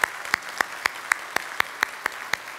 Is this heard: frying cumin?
no